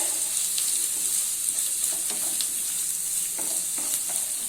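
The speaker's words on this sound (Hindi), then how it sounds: "ऑयल गरम हो चुका है, अभी इसमें करी लीव्स ऐड कर देते हैं और कटे हुए ऑनियन ऐड कर देते हैं और मिक्स कर लेते हैं" Curry leaves and chopped onions frying in hot oil, a constant bright sizzle with a few faint scrapes of stirring and no voices.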